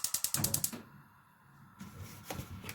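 A gas stove burner is lit in a home kitchen, a quick run of sharp rapid igniter clicks followed by a brief hiss of gas and then low, quiet room sounds.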